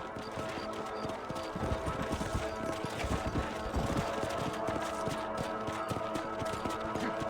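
Horse hooves clip-clopping at a steady ride in Red Dead Redemption, rhythmic repeated hoofbeats close by, continuing over open-country game ambience with a faint musical bed.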